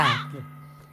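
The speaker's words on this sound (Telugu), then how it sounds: "వ్యధవ కాకి." One crow gives a single short, harsh caw up close, then a low steady hum fills the rest.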